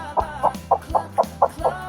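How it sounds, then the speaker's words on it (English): A chicken on a farm gives a steady series of eight short, evenly spaced clucks, close and clear with no talking. "It clucks and it lays eggs."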